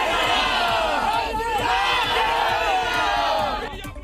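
Dense protesting crowd blocking a road junction in Kushinagar, Uttar Pradesh, a continuous loud roar of shouting voices with rhythmic chanting pulses, steady throughout and fading slightly at the end.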